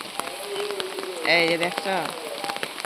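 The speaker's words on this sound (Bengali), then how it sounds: "প্রচুর পরিমাণে বৃষ্টি" Heavy morning rain pours steadily outdoors, a continuous wash of drops beneath an umbrella, with someone speaking over it partway through.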